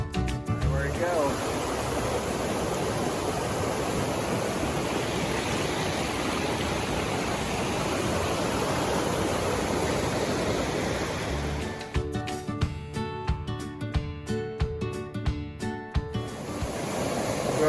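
A mountain creek in the Smokies rushes in a steady, dense wash of flowing water heard up close, and its texture turns choppier and more broken near the end.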